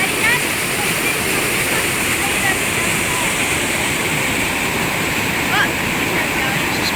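Rushing floodwater after cyclone flash flooding roars as a continuous, loud, dense wash of churning water, steady throughout with no voices heard.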